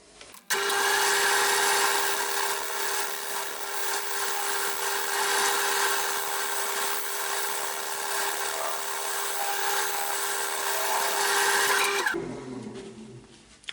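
A woodturning scraper shaves the outside of a sycamore bowl on a spinning lathe, giving a steady, loud continuous scraping rasp with a faint underlying hum that runs unbroken for about twelve seconds before stopping abruptly.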